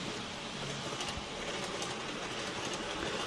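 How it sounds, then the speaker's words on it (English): An N scale model bullet train runs along layout track on the upper level of a DC-powered model railroad, giving a steady, close, continuous rolling rumble and wheel hiss throughout with no talking. "off with the bullet train"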